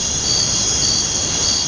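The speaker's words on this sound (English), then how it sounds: "Then we have the crickets." A steady, dense chorus of crickets chirps continuously at a fairly loud level, a high, even shimmer with no pauses and no voices.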